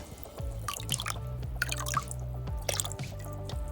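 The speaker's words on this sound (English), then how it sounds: "Last thing that we need to do now is to pour some vinegar." Vinegar pours onto a shoe with a steady trickle and dripping, close and clear, while background music plays throughout.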